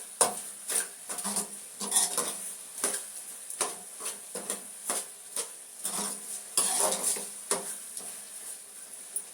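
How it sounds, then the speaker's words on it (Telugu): A spoon stirs tomato and potato masala curry in a pan, sharp metallic scrapes and clinks in an irregular rhythm over a soft sizzle, close and clear with no talking. "ఇవి బాగా కలపాలండి. టమాటా బంగాళదుంప మసాలా కర్రీ అండి ఇది."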